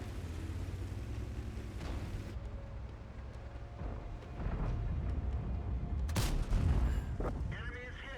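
A tank fires in a video game, the TS-5: rumbling battle noise builds toward one sharp, heavy cannon blast, followed by fainter shots and clatter.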